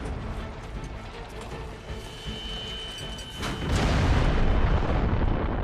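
A German World War I Paris Gun, a huge cannon built from three barrels welded end to end, fires with a sudden heavy boom partway through. The shot follows a low murmuring background and leaves a sustained roaring rumble.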